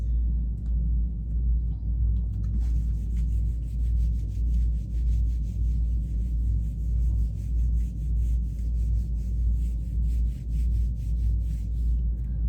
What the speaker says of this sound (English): let me go ahead and erase this.